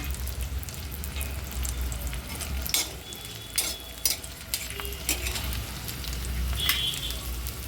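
Onion frying in oil on a flat tawa for a gram-leaf bhaji, a steady soft sizzle overlaid by repeated scraping and clinking of a spatula stirring against the metal surface, no talking.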